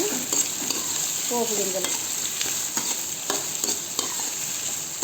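Curry leaves, onion and green chili fry in oil in a pan, a steady close sizzle with occasional stirring scrapes and soft clinks, no talking over it.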